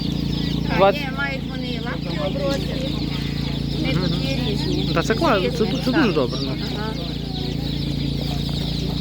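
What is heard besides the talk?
chickens clucking at an animal market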